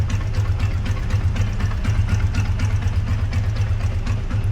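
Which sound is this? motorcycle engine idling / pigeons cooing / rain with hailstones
motorcycle engine idling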